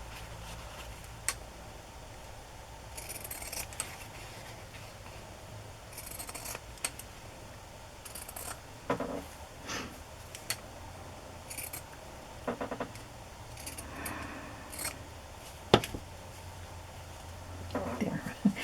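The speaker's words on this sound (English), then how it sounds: "Cut it with my pinking shears." Pinking shears snip through fabric in repeated crisp cuts spread across the stretch, close and moderately loud, with a person speaking softly at times between the snips.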